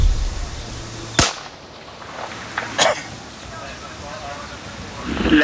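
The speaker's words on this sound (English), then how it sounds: "We're going to fire a one warning shot to two blokes that have been following us to the north, behind us, over." A single sharp rifle warning shot fired by Royal Marines in Afghanistan cracks out in the open, followed by a second fainter report and distant outdoor ambience, with faint voices in the background.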